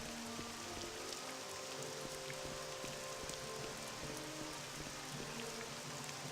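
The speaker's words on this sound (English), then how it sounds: "The Skating Isles would look so much nicer if it wasn't raining." Steady rain falls and patters on surfaces in The Elder Scrolls Online, a dense, even hiss with occasional drips, moderately faint and uninterrupted.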